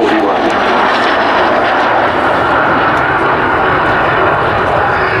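A Gloster Meteor NF11 jet aircraft at RAF Cosford in 2015 fills the air with a loud, steady engine roar that holds without a break.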